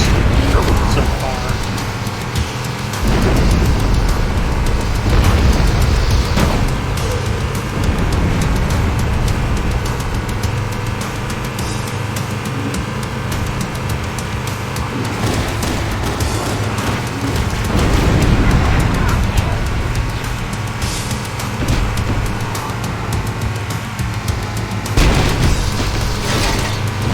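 Booming explosions in the Halo video game, dense and loud, with repeated low blasts over a constant roar of engines and battle noise, with a voice talking at times.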